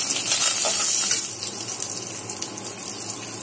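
Two or three dry red chillies sizzle in hot oil with fennel seeds and curry leaves, tempering for a chicken curry: a steady, close, bright hiss that is loudest in the first second and then settles to a softer, even crackle, with no talking.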